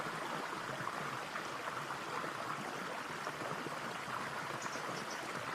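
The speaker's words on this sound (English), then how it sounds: "Don't you just love that sound of the running water?" Steady broadband rush of running water from a koi pond waterfall, continuous and fairly close, filling the whole stretch with an even splashing flow and no voices.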